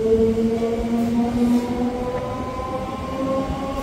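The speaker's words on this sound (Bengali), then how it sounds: "এই ট্রেন কিন্তু বাগনান স্টেশন ছেড়ে বেরিয়ে যাচ্ছে।" A local train on the Howrah to Digha route pulls out of Bagnan station with a steady, close rumble and a sustained tonal whine that runs unbroken throughout, with no voices.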